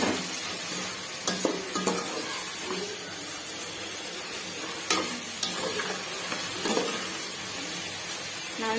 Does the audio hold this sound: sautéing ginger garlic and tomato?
yes